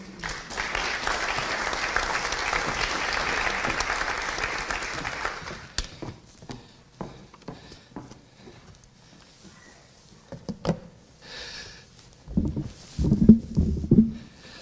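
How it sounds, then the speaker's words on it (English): Audience at a school district community forum applauds for a police chief, a full burst of clapping for about six seconds that thins to scattered claps, followed by shuffling and a voice starting to speak. "So let's give Chief Yankee a round of applause."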